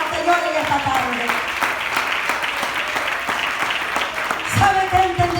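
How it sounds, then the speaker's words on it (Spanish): Church congregation applauding steadily through the whole stretch, a dense wash of hand claps filling the room, with a voice speaking over the clapping and rising toward the end. "Dele esas palmas al Señor en esta tarde"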